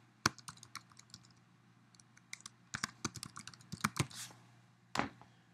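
Typing on a computer keyboard while entering account details on a registration page: scattered single key clicks at first, then a quicker, denser run of taps, close and fairly quiet with no talking.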